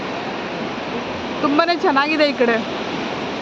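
Steady waves wash in at Kakinada beach during rain, a continuous broad roar of surf and rainfall throughout, with a person talking briefly in the middle.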